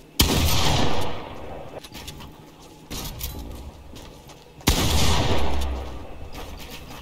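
Sniper rifle shots in the video game Fortnite: three loud, sharp cracks spaced a couple of seconds apart, each followed by a long decaying echo tail.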